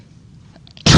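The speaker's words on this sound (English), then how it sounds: "excuse me, big sneeze" A single loud sneeze bursts out abruptly near the close, following a short quiet stretch, during a classroom lecture on hair and skin biology.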